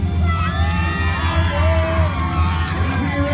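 A crowd of school children cheers, whoops and shouts loudly and continuously for a bike stunt at a school assembly, with voices rising and falling in a dense, close roar.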